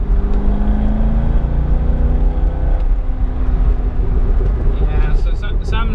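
A C6 Corvette accelerating on the road, its engine note rising steadily and loud throughout, with a voice talking over the constant drone of the car.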